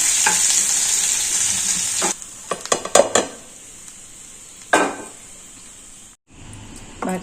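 Coconut chutney being stirred in a pan sizzles loudly at first, then gives way to a run of sharp spoon clinks and scrapes against the pan, another quick scrape and a brief silence.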